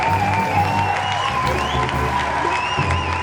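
A lively crowd applauds and cheers on a French entertainment show, with dense continuous clapping, whoops and voices mingling, loud and close for the whole stretch.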